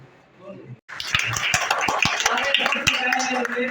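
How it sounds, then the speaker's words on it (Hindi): Applause breaks out from an audience honouring an art competition winner, a dense, steady burst of many hands clapping that starts abruptly after a brief quiet murmur and carries on loudly to the end. "तुम लोग इनके लिए तालियां बजाओ"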